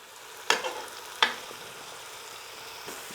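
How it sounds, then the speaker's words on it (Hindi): Large pieces of meat frying in a pan for nihari, a low steady sizzle with two sharp spatula knocks and a fainter scrape later. "बस हम इसको 4 से 5 मिनट तक के लिए भूनेंगे।"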